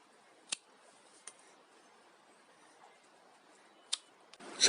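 Pruning shears snip elm bonsai branches in a few sharp, isolated cuts spaced seconds apart against a quiet background, with a louder rustle of handling at the very end.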